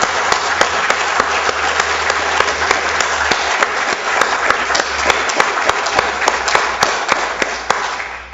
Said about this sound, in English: Ladies and gentlemen, please join me in again applauding these recipients.